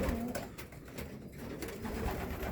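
Homing pigeons coo inside a loft in Szczecin-Dąbie, soft repeated throaty calls layered over a steady murmur of the flock, close and continuous with no talk.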